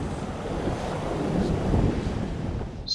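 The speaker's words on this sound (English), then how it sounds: "Got waves crashing on you." Ocean surf crashes steadily on a Rhode Island shore during a storm, a loud, continuous roar of breaking waves mixed with gusting wind buffeting the microphone, with no voices.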